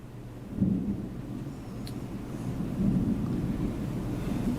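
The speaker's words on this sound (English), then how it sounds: "it is really raining. It's pouring cats and dogs out there." Heavy rain pours steadily outside, with low rolling thunder rumbling through it and swelling twice. No voices are present.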